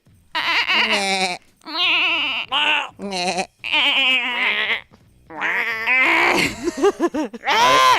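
Several people take turns imitating a goat's bleat with their voices, producing wavering, quavering cries in a rapid series of loud bursts with brief pauses, some strained and scream-like, close to the microphone.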